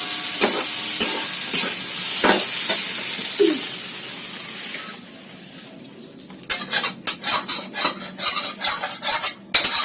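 Metal utensil scraping and clinking against a wok as chicken with taro stolons is stirred, with a soft sizzle underneath; the strokes grow quicker and louder toward the end.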